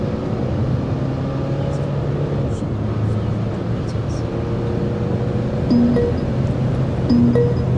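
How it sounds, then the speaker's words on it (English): Cabin interior of a 2021 Mercedes-Benz A200d sedan with its diesel engine running while driving, a steady low drone that rises slightly toward the end, with faint tonal whines and no talk over it. "you do get to hear some amount of engine noise inside the cabin"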